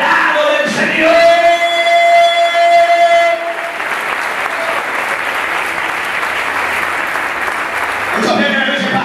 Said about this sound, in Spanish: Dando un aplauso fuerte